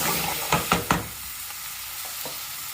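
Chopped garlic hits a hot pan during mole and Spanish rice cooking, with a few sharp knocks and a stir giving way to a steady hiss that fades to a soft background sizzle.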